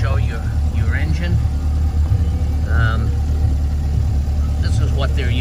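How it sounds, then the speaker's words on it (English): A 2023 Chevrolet Corvette C8 roadster's engine runs quietly at a steady, even low rumble beneath someone talking nearby. "Right now the motor is running nice and quiet"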